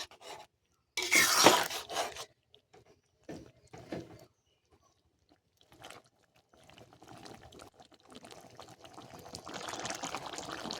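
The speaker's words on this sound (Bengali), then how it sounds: "এবার আমি আবার একটু ভালো করে নাড়াচাড়া করে নেব।" Jackfruit chili curry thickened with arrowroot being stirred in a pan, with a loud wet slosh at first, then scattered scrapes and soft sloppy stirring noises.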